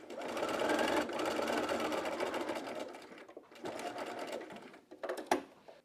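A sewing machine runs fast and close while stitching a seam on a wrap dress, buzzing steadily, pausing briefly, then running again before stopping with a few clicks.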